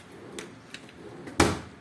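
A kitchen cabinet drawer is opened or closed, with faint sliding rattles building to one sharp wooden knock near the end, close by and with no talk.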